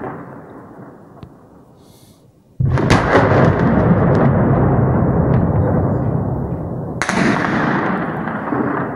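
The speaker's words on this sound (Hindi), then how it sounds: "बमबारी की आवाज से पूरा शहर थर्रा रहा था।" Bombing explosions during a Russian attack on Ukrainian military positions in Mariupol: a sudden loud blast at about 2.6 seconds opens into sustained heavy rumbling and roaring, with a second sharp burst near 7 seconds, no speech.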